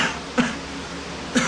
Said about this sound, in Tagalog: Bakit parang palala ng palala yung ubo mo?